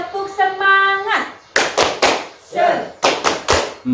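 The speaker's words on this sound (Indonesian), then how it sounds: "kita tepuk semangat dulu ya, biar nambah semangatnya ya" A group of adults at a community health and nutrition session performs a rhythmic 'tepuk semangat' cheer clap: several sharp, loud bursts of clapping in a patterned beat after a sustained voiced tone, with voices mixed in.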